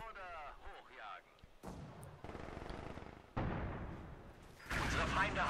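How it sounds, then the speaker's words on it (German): Incendiary artillery fire in the video game Company of Heroes 2, heard as a series of loud booming impacts and bursts that build in intensity, mixed with game voices and battle noise. "Jawohl, schickt die Brandmunition."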